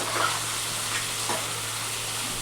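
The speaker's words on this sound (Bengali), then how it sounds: "আলুটা দিয়েও ভালো করে কষাবো।" Tomato and potato being sautéed in a pan with spiced water, giving a steady, fairly quiet sizzle and frying hiss with a few soft stirring scrapes and no talking.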